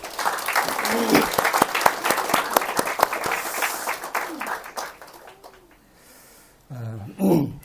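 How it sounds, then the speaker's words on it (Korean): A Korean church congregation at Sunday service gives a burst of dense clapping that swells, then thins out and fades over about five seconds, followed by someone speaking. "특별한 감사의 박수가 필요합니다"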